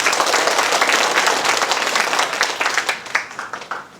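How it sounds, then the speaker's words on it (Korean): An audience at a public hearing in Mungyeong gives a guest brisk applause, dense clapping that holds steady and then thins into scattered claps as it fades near the end. "한 분 한 분 소개해 드릴 때마다 힘찬 박수 부탁드립니다."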